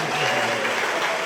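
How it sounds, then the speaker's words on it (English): An audience at a celebration evening claps in a dense, steady wash. The short burst is close and continuous throughout. "Give yourself a round of applause"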